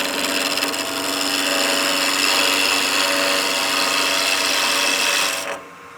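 A skew chisel cuts into spinning wood on a lathe while a German smoker is turned, giving a steady, close, continuous shearing hiss that runs evenly for several seconds and then stops abruptly near the end.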